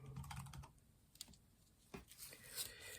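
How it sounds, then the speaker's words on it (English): Quiet, rapid keystrokes on a computer keyboard as a search term is typed into Canva, a short run of close, light clicks with a brief pause in the middle. "we're going to type in ebook template."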